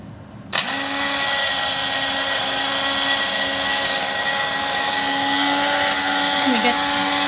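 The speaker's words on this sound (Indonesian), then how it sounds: "Saya akan blender balik." Kitchen blender grinding biryani ingredients, switching on abruptly and then running as a loud, steady high-pitched whir that holds for several seconds without any talk.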